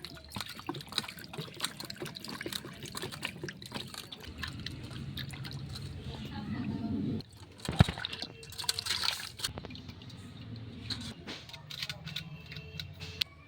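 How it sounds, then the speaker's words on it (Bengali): Cut kuche fish (freshwater eel) being rinsed under water, with soft trickling, dripping and sloshing that rise and fall, plus a few sharp handling knocks, fairly quiet and close. "এখন ওই মাছগুলোকে ভালো করে ধুয়ে নেব। ধুয়ে নিচ্ছি।"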